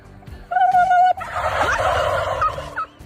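A turkey gobbles loudly and close by, a rapid warbling rattle after a higher call, standing alone without talk.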